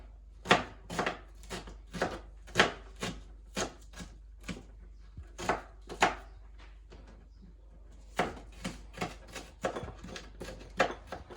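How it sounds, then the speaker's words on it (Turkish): Rhythmic knife chops slicing an onion on a cutting board, crisp close taps in quick runs with a short pause midway, no voices. "Şöyle kat kat doğrayacağım soğan."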